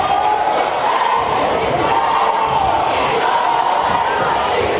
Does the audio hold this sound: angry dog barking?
no